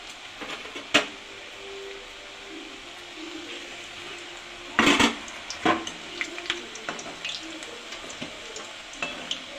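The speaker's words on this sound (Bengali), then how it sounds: "আমি উল্টে পাল্টে ভেজে নেব।" Pithas made with flour and sugar frying in hot oil in a kadai and being turned over, heard as a continuous sizzle broken by a few louder clanks and scrapes.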